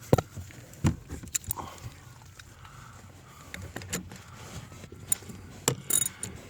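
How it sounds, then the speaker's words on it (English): A torque wrench tightens a bolt during a CVT transmission replacement on a 2011-2015 Nissan Rogue, irregular close metallic clicks, clanks and ratcheting taps against a quiet garage background. "I think I'm going to torque it to about 40 foot-pounds, 35 to 40 should be sufficient."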